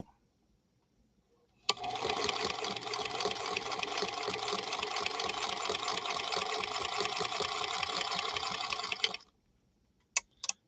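A Singer Centennial Featherweight sewing machine stitches Kona cotton quilt layers with batting, a fast, even whirring hum of needle strokes running steadily for about seven seconds, close up, then stopping, followed by a couple of sharp clicks.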